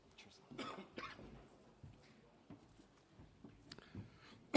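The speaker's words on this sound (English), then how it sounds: "I'm sorry about that cough." A man coughs several times at a formal international law event, short muffled bursts spread through a quiet room, faint and close, with small throat noises between.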